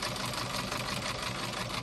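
Steady, fast mechanical whirring of a sewing machine stitching continuously, close and even throughout with no pauses.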